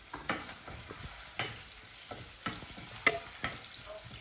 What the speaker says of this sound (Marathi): आणि इथे आता बटाटे हे करून घेते, थोडे मऊ करून घेते.